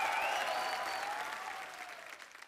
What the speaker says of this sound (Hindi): एक बार जोरदार तालियां दिलजीत के लिए